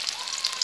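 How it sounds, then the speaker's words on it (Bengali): Chopped onion and green chili fry lightly in oil in a pan, giving a steady, close, soft sizzle and hiss with no talking. "পেঁয়াজ লঙ্কাটা হালকা ফ্রাই হয়ে আসছে"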